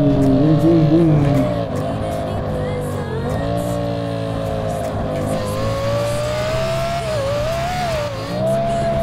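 A racing car in GTA 5 drives with a loud, close engine note that rises and falls through gear changes and revs, with brief tyre noise. A voice talks over it at times.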